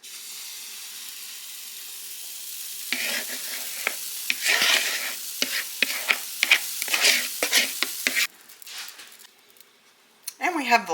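Homemade pancakes cook on a griddle, with sizzling and soft hiss broken by scraping and tapping clicks as they are handled, and a voice talks intermittently over it.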